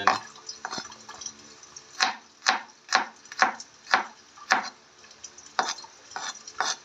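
Knife slicing through ingredients on a cutting board for adobong mani, a run of about a dozen sharp, close chops, mostly evenly spaced with a brief pause partway, no voices.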